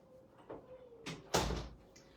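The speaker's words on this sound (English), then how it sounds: "let me close my door" A household door is shut indoors, giving a soft knock followed by a louder, sharper thud of it closing, close by, with faint background sounds and no talk.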